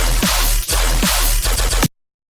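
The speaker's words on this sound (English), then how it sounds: "because of the bass that sounds like this" A dense electronic bass line from a song breakdown plays on its own: a heavy, sustained low rumble broken by short rhythmic accents, ending abruptly after about two seconds.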